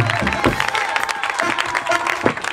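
A church congregation at a French-language worship celebration claps and cheers for the Lord, a steady dense crowd applause with scattered shouts and a sustained tone underneath.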